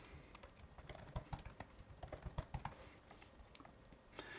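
A password is typed on a computer keyboard in a quick run of light, close key taps that slow toward the end, quiet and with no talking.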